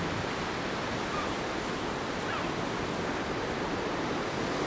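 Ocean surf washing steadily against the shore of a small tropical island, a continuous broadband roar of breaking waves with some wind, with no voices.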